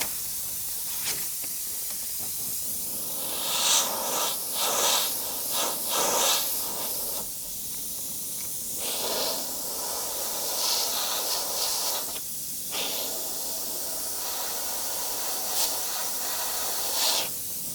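A spray gun laying lacquer onto a custom-painted Trek Madone bike frame, close hissing bursts of varying length separated by short pauses, with no voices.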